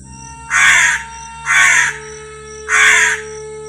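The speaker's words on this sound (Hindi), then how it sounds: "तभी कौआ बोलता है" Three loud, harsh crow caws, each about half a second long, evenly spaced and close by, with a steady faint hum in the background.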